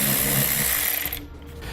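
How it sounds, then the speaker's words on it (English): A power tool with a 7mm socket removes bolts on a 2010 BMW X3, giving a close mechanical whirring and ratcheting buzz that cuts off after about one second. "we're going to grab a 7mm socket and we can pull those bolts out"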